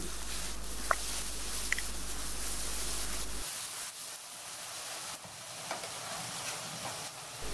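Chicken feet, wings and gizzards fry with ginger and garlic paste in a pan, giving a steady close sizzling hiss with faint scrapes as the mixture is stirred.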